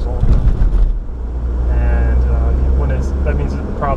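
A 1983 first-generation Mazda RX-7 rotary engine idles with a steady low rumble and drone throughout while someone talks over it close to the microphone.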